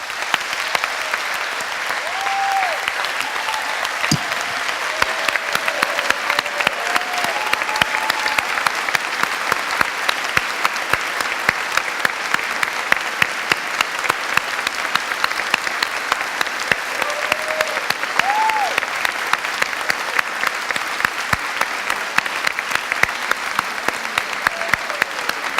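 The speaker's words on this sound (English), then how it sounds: "So please stand. Let's give him a round of applause." A standing audience at a Unity Temple service claps in sustained, dense applause from start to finish at an even level, with faint voices in the crowd beneath it.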